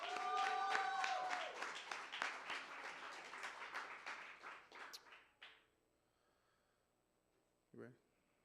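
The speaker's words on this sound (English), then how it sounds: "Now let's give her a round of applause." An audience at a live spoken-word poetry showcase applauds a poet, with full clapping and some cheers that gradually thin out and fade, followed by near quiet and then a brief voice.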